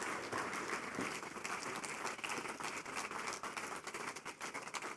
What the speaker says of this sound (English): Keep clapping until he gets on stage.